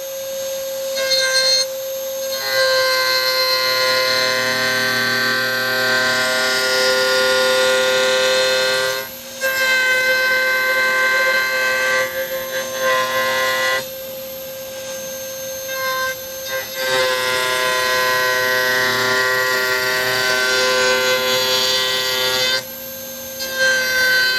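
A Dremel 231 router table routing a piece of half-inch cedar, giving a loud, steady high-pitched motor whine with the cutting sound rising and falling across the pass and brief dips in between.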